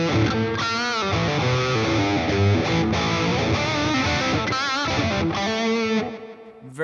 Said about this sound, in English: Putting overdrive or distortion onto that, absolutely, it will scream.